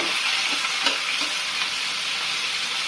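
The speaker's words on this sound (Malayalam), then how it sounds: "കൂടെ കറിവേപ്പില ഇടുക. ഇത് നന്നായിട്ടൊന്ന് ഇളക്കി കൊടുക്കുക." Curry leaves being stirred into chicken curry in a pan give a steady close sizzle, with soft spoon scrapes and stirring strokes over about three seconds.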